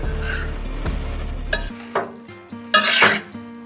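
A spoon scrapes and clanks through aloo gobhi sabzi in a pan over a medium flame, giving several distinct stirring strokes and metallic knocks over a faint sizzle, with low tonal hum early on.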